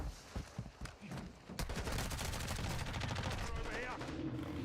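Rapid bursts of automatic gunfire in a Call of Duty Warzone 2 match, a dense continuous clatter of shots close up after a few scattered earlier pops, with faint game sounds around.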